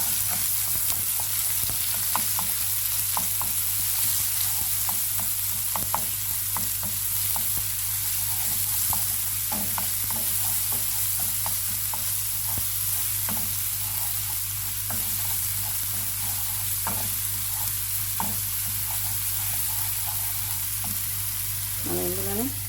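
Ginger garlic paste fries in a tablespoon of oil, sizzling steadily while a spoon stirs it in repeated scraping strokes, close and continuous throughout.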